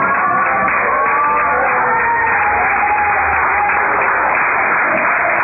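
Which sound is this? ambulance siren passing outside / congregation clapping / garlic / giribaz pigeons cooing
congregation clapping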